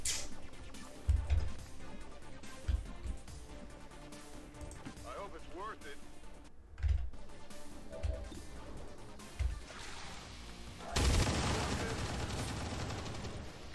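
Gunshots ring out during a turn-based tactical battle in XCOM 2, as scattered single bangs and a louder burst near the end, mixed with game sounds and someone speaking over them.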